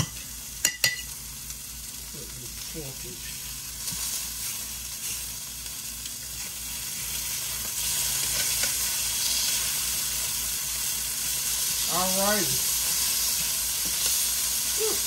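Steady sizzling and frying hiss of breakfast sausages in a hot pan throughout, with a couple of brief clinks and a short spoken remark near the end.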